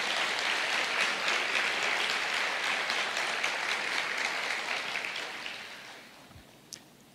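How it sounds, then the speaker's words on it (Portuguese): A church congregation claps for the Lord, a fairly quiet mass of applause that holds steady and then fades away, ending with a single soft thud. "eu sugiro que você aplauda ao Senhor nesse momento de fato"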